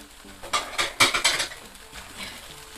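Mussels and cuttlefish stirred in a frying pan, with a quick run of clattering scrapes and clinks of a utensil against the pan over a faint background.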